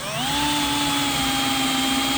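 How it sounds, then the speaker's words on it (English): A power drill bores through two wooden sticks for a spiral Christmas tree, its motor whining loud and close in one steady pitch throughout. "Drill through both."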